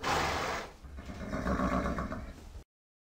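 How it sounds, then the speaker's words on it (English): A horse in the Windows 3.1 western game Wyatt Earp's Old West gives one clear, fairly near whinny, followed by a lower snorting, blustering call before the sound cuts off. "Oh, there was just a horse."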